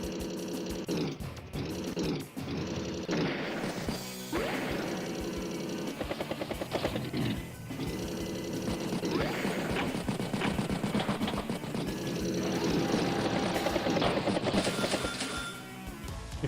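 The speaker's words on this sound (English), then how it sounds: "Battlecopter does strike the Neo tank." In the Advance Wars by Web game, a Battlecopter attacks a Neo tank with a loud, continuous rotor whir and engine roar, sharp impact bursts early on, then sustained mechanical noise with no talking.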